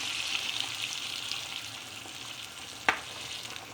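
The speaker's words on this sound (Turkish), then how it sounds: "Kavrulan makarnanın üzerine, üzerine iki parmak yetecek kadar sıcak kaynamış su ilave ediyoruz." Hot boiling water is poured onto roasted pasta in a pan, setting off a steady hissing sizzle with a sharp splashing burst near the end, no voices.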